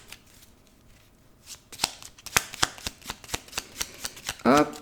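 A deck of cards being shuffled and then cut, giving a run of sharp, evenly spaced riffling snaps up close, ending in a brief voice.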